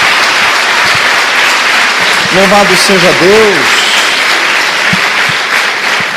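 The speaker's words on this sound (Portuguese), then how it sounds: "Dê uma salva de palmas em Cristo Jesus." A church congregation applauds steadily in a loud, continuous wash of clapping, while a voice speaks briefly over it midway.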